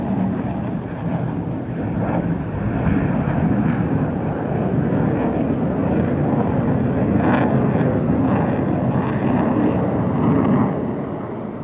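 F-16A fighter jet of 311 Squadron flying a display at RAF Fairford, a loud, continuous roaring jet engine noise filling the whole stretch, steady and powerful with slight swells.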